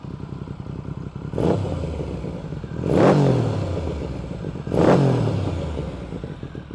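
A Triumph 900 motorcycle fitted with new exhaust pipes revs three times in sharp, loud bursts, each throttle blip rising and then falling back to a rumbling idle close by.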